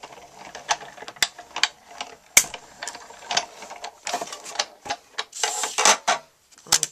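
A hand-cranked die-cutting machine feeding a layering circle die through for papercraft, producing irregular ratcheting clicks, mechanical rattles and grinding bursts, close and fairly loud, with no talk.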